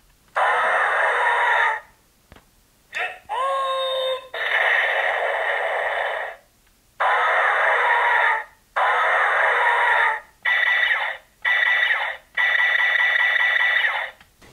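Electronic sound effects from a Kyoryuger Plezuon toy: a series of loud, bright synthetic bursts, chirps and roar-like tones in separate blocks separated by short silences, with no talking.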